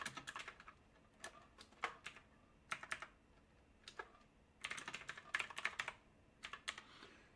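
Quick bursts of typing on a computer keyboard, close and fairly quiet, with short pauses between runs of keystrokes and a denser flurry near the end; no voices.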